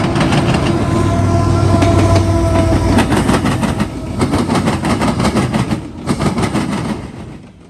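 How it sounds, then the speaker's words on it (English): An empty eastbound coal train rushes past a tower in Marion, Ohio, loud and close, with a steady roar of rolling wagons and rhythmic clickety-clack of wheels over rail joints that fades slightly at the end. "an empty coal train came flying east."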